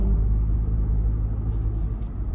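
A 2024 Jeep Wrangler Sport heard from inside while driving on the road, with a steady, loud low rumble of engine and road noise running throughout.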